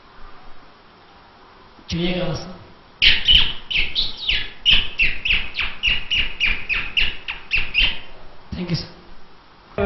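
A mimicry performer at a stage show in Ranchi imitates a bird with his voice, producing a rapid run of bright, whistling chirps that rise to a dense, loud flurry, close to the microphone.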